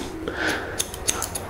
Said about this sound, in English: And I'm going to cut the fringe at the same length